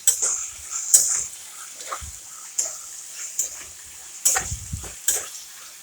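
Masala of coriander powder and homemade black spice frying in a pan for a ridge gourd and potato dry dish, stirred in intermittent scraping strokes with quiet sizzling in between.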